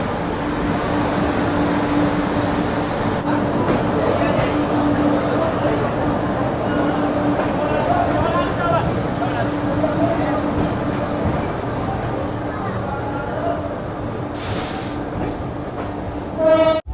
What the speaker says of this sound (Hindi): तो भाई अपनी ट्रेन का यहाँ से डिपार्चर हो चुका है